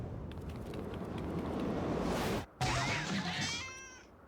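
A cat in Final Fantasy XIV meowing loudly and insistently, a strained caterwauling cry that breaks off briefly, then returns as a rising, wavering yowl.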